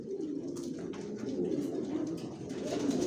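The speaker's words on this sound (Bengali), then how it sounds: "মাশাআল্লাহ অরিজিনাল মিলি রেসার ডাউন শেপের নর ডিম নিয়ে বসা আছে লংয়ের।" A male Mili racer pigeon of long-distance Janssen stock, down-shaped, sits on eggs in a loft and coos steadily in soft, repeated rumbling phrases, close by and alone throughout.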